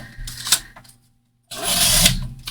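Paper being cut for a small one-inch envelope gusset, heard as a brief close crunch, a short pause, then a longer loud rasping slice, with no talking.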